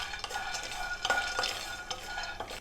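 Chana dal, Bengal gram, dry-roasting in a pan, with a close, continuous scraping stir and light sizzle as a spatula pushes the dry lentils around the metal.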